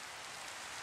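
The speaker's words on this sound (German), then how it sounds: "Jetzt regnet es auch noch." Steady rain falling in Minecraft (Java 1.16.4), a soft continuous broadband hiss with no breaks, heard alone for under a second.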